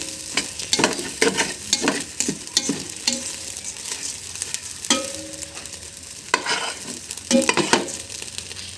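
Rice frying in a pan for Bengali khichuri, stirred with repeated scraping strokes in an irregular rhythm over a continuous close sizzle, no speech.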